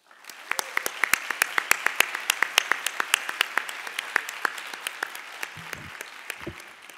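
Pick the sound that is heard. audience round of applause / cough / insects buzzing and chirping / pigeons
audience round of applause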